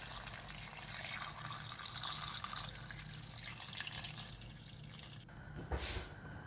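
Water pours steadily into a pot over potatoes for an Irish beef stew, a continuous close splashing and trickling that holds for several seconds, with a brief brighter gush near the end.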